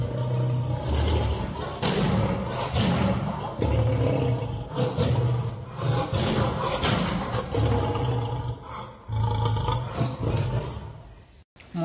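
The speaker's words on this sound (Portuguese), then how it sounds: "Muito bem, se você disse que esse é o som do leão, você acertou." A lion roars in a deep, loud, sustained burst of rumbling calls that continues for the full length, alone and close, with no talking.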